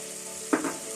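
Spices frying in a pan for a spicy lamb and potato curry, a steady soft sizzle with a brief louder crackle or stir partway through.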